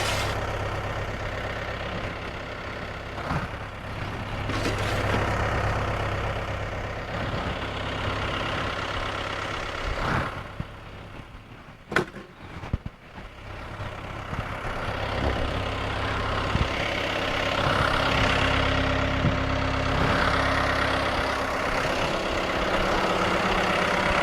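A large tractor idles in a wet front yard, a steady low engine drone held close and fairly loud throughout, with a few brief knocks and clatters near the middle.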